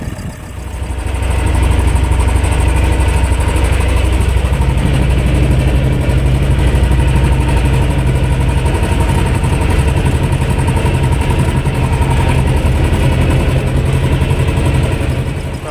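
A T-25 tractor engine labours steadily while ploughing virgin soil, a loud continuous low drone that holds constant throughout with no talk over it.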